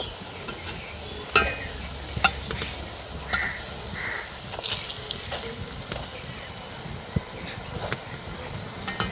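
Semolina and green pea snacks shallow-frying in a little oil in a pan, with a steady soft sizzle, occasional stirring scrapes and clinks close by, and no talk.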